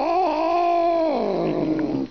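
An angry cat growls over its food, letting out a long, sustained, tonal growl that wavers and drops in pitch toward the end, close and alone.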